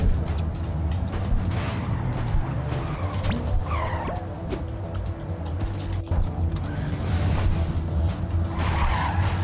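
Trucks drive and skid in the video game Clustertruck, a continuous loud engine rumble with tire squeals and skidding noises and scattered mechanical clatter, no talking.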